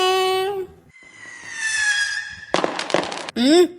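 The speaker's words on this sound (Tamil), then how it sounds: "அதான் பட்டாசு வெடிக்கிற சத்தம் போன வரைக்கும் நல்லா கேக்குதே" A dense crackling burst of firecrackers in a Tamil cartoon, sandwiched between high, squealing whistle-like tones that rise and fall.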